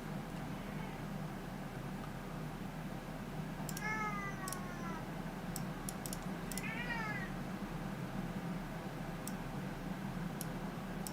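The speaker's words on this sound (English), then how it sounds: "Gotta love my cat, guys." A pet cat meows twice, short rising-falling cries around four and seven seconds, heard over a steady background hum and faint ticking clicks, fairly close and clear.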